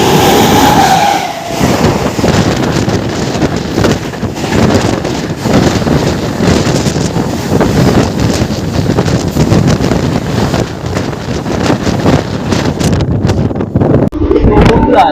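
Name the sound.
Howrah–Jabalpur Shaktipunj Express train arriving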